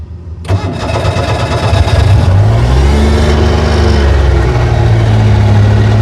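An old abandoned police car's engine cranks and catches, then runs and revs up and down, loud and close with a rough mid-pitched roar and no talk over it.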